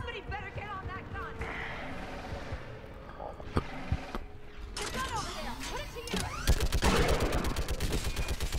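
A mounted gun firing in the Mass Effect 3 video game, bursts of rapid gunfire building toward the end over dense game sound effects and music, with voices heard in the mix.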